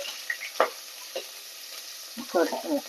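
Onion and green chili fry in a pan under a faint hiss, with a few close spoon scrapes and stirring clatters scattered through.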